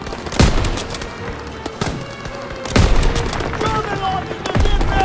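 Call of Duty WW2 battle gunfire cracks out in loud, irregular bursts and single shots over rumbling combat noise, with voices shouting amid the shooting.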